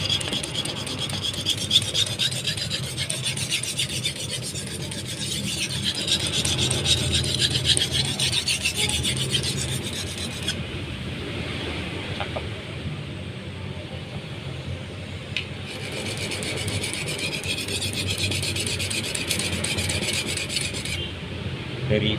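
A knife blade is pushed back and forth over a Japanese blue corundum whetstone of about 600 grit, making a close, continuous gritty rasp with stroke-by-stroke swells and two short pauses.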